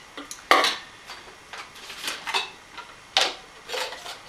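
Lightweight camp cooking pots clatter and clink as they are handled, sharp metallic knocks coming in irregular bursts, close and fairly loud.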